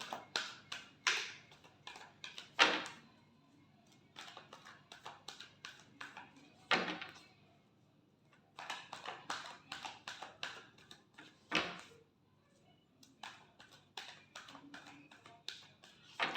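Tarot cards being shuffled at close range, with bursts of quick crisp riffling taps and flutters separated by short pauses, fairly quiet and without talk.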